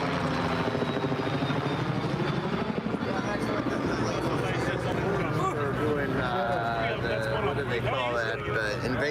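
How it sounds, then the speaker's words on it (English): A low-flying news helicopter roars loud and steady overhead above a truck convoy gathering in Hagerstown, Maryland, with rotor thumping throughout and people talking underneath. "Is that news chopper?"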